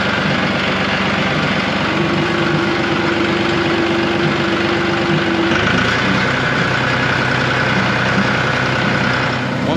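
A tractor engine running steadily after being put in gear, a loud continuous droning rumble with a sustained tonal whine that drops away partway through as the engine note shifts, no voices.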